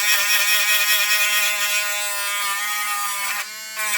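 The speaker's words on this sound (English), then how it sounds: "So I'm just taking my Dremel tool with the little burr" A Dremel rotary tool fitted with a small burr thins a part of a 1/32 scale Mk. XIVc model kit, giving a steady high-pitched whine that holds close and loud, dipping briefly near the end.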